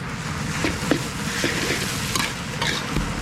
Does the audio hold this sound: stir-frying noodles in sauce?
yes